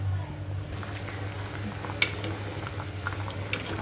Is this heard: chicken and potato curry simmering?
yes